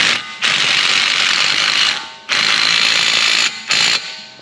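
Ratchet wrench clicking rapidly on the axle nut of a Chevy Malibu during brake rotor work, three loud, close bursts of dense ratcheting with short pauses between them.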